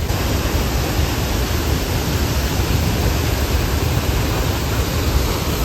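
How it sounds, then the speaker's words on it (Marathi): A waterfall at Bhandardara, Maharashtra, rushes as a steady, dense broadband roar, loud and close, unbroken for the whole stretch, with no voices over it. "पाहून झाले वॉटरफॉल"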